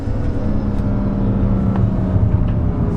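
A tuned BMW M135i on a test drive produces a steady low engine drone with road rumble, heard from inside the cabin at an even level throughout.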